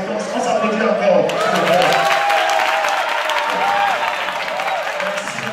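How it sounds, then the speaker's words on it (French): Audience applause with some cheering at a trumpet semifinal competition, a continuous crowd roar of clapping while a melodic voice or instrument line rises over it, loud and sustained. "On s'applaudit encore."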